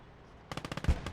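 Rapid bursts of machine-gun fire aimed at infantry in the World War II game Gates of Hell, a German winter offensive. The fire starts after a quiet half second and runs as a loud, fast string of sharp cracks.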